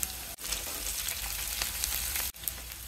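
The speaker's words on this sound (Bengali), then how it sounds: "হালকা করে ভেজে নিব।" Onion with bay leaf, cloves, cardamom and cinnamon fries lightly in oil for a chicken pulao, a steady close sizzle with crackles, briefly dipping twice as the pan is stirred.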